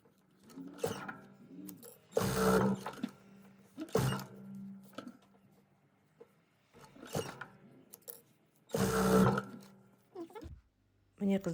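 A sewing machine runs in short bursts while stitching patchwork quilt fabric, with mechanical whirring in separate spurts between pauses and someone talking over and between the runs.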